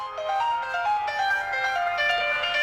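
Music plays through the small built-in speaker of a Kingzone N5 metal-bodied smartphone, a thin, bright melodic tune with little bass, fairly loud and continuous.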